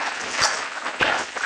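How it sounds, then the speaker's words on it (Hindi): Crowd applause as an audience rises for a standing ovation at an ISRO facility dedication event, a dense clatter of many hands under a hall's ambience, short and fairly steady. "हम सब स्टैंडिंग ओवेशन दे करके तालियों से"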